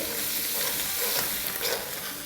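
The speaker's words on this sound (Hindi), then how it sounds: "1 टीस्पून अदरक पिसा हुआ। सौटे करेंगे।" Ground ginger with green chillies sautéing in a hot pan for Chinese-style noodles and rice, a dense, even hiss of frying that stays close and steady throughout, no voices.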